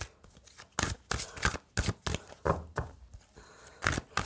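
A deck of tarot cards is shuffled and drawn by hand, producing a string of crisp, close riffling and sliding bursts in an uneven rhythm, with no talking.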